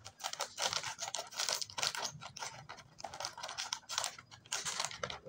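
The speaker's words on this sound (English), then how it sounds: "first, cut out the fruit cereal packaging" Fruit cereal packaging being cut and torn open, a close series of crinkly plastic rustles and sharp scratchy snips coming in irregular bursts, with no talking.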